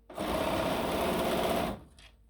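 A sewing machine runs one fast continuous burst, stitching a quarter-inch seam on a quilt block, loud and close, stopping abruptly near the end.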